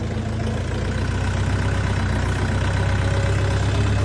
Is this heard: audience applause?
no